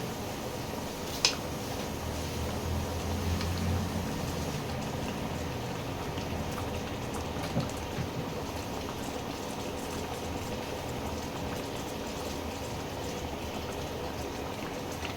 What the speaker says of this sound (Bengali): একটু ফুটুক।